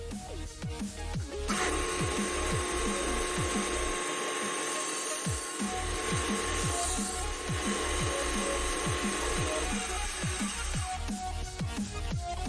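A ratcheting cutter clicking rhythmically through 3/4 inch PVC pipe, rapid repeated ratchet clicks with a steady mechanical hum behind them, close and loud throughout.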